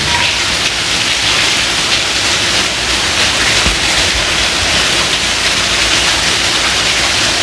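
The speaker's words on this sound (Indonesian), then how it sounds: "lihat hujan lagi masih deras" Heavy, steady downpour roaring loud and close as a dense, unbroken wash of rain with no voices.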